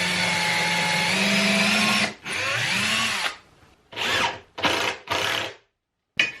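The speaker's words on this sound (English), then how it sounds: "I'm going to put screws in both the top and the back to make sure this thing is really well held in here" A power drill drives screws into a wooden support piece on a workshop French cleat build, in several loud whirring bursts: one long run, then a shorter one, then three quick pulses separated by silence.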